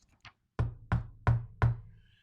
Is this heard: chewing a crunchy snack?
no